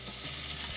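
Garlic hits hot olive oil in a skillet, a steady broadband sizzle and crackle that fills the short moment evenly, close and moderately loud with no voices.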